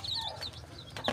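Native farm chickens cluck and call in short bursts, with a brief flutter near the end, fairly close over a low background rumble.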